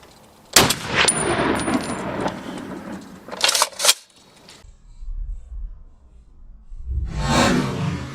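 A gun fired from the shoulder gives one sharp, loud report, followed by a second quick burst and a long rumbling echo, then a whooshing noise builds at the end.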